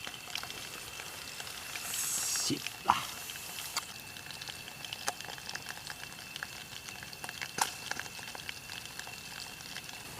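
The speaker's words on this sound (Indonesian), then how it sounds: "goreng belut guys" Eel frying in a pan over a campsite fire in a forest, a steady low sizzle and bubbling throughout with a few sharp crackles and pops, while a voice briefly speaks.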